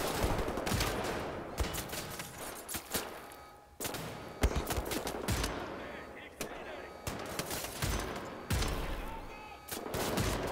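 Repeated shotgun blasts from the video game Wolfenstein, loud booming shots spaced a couple of seconds apart over continuous game noise and faint voice.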